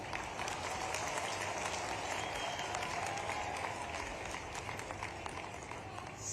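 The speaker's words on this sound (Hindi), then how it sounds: "और ऐसे में ताली इतनी कम बजे तो मजा ही नहीं आएगा।" Crowd clapping at an inauguration and foundation-stone ceremony in Shujalpur, Shajapur, a continuous patter of many hands that holds steady throughout and fades slightly toward the end, heard at a distance.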